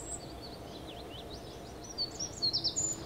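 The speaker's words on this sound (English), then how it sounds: "Whistling birds." Quiet chirping bird whistles play in the Kerbal Space Program video game. Short, rising and falling tweets sit over a low steady ambient hum and grow a little louder and more clustered near the end.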